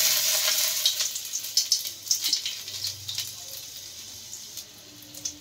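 Chopped garlic frying in hot oil, a bright crackling sizzle with scattered pops and a stir or two, loudest at first and gradually settling, with no talking.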